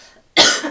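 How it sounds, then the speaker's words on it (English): A single sharp, loud cough bursts out after a near-silent moment, close to the microphone, from a person with a lingering cough of about three weeks. "Anyone else got a cough at the minute? I've had this cough for about 3 weeks."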